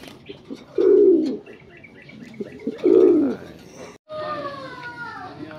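A racing pigeon, the Blue Bar, returns home from a training race and gives two loud, low cooing bursts close by, with a voice talking between them and other birds chirping faintly near the end.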